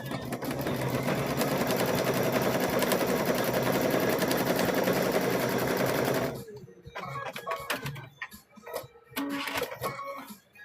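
A sewing machine stitches a mug rug in a rapid, continuous whirring run for about six seconds, then stops, followed by quieter handling sounds and a voice.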